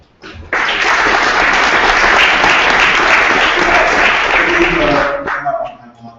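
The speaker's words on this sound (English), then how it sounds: "let's give a round of applause and welcome them to the stage." Loud applause from a conference audience at a Silicon Valley VR expo bursts in as presenters are welcomed to the stage, holds steady for several seconds, then tapers off as a voice begins speaking at the end.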